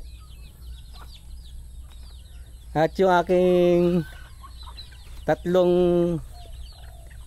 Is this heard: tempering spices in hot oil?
no